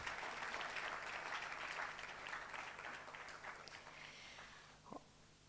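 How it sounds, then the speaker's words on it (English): An audience at an entrepreneurship festival pitching event applauds steadily in a dense, even wash of clapping that slowly thins and fades toward the end, with a brief knock near the close. "Another resounding applause for pre-firms."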